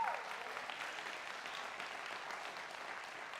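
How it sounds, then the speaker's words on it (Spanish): A church congregation applauds during a sermon, steady clapping from many hands running throughout, slightly distant and roomy. "denle un aplauso al Señor si quiere"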